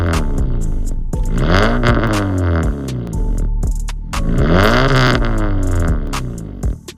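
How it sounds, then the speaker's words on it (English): A Honda Civic 1.8 i-VTEC four-cylinder engine revs up loudly twice, pitch climbing and falling with each rev, then drops back toward idle. "it creates a more grunty 4-cylinder sound, of course, with the engine noise"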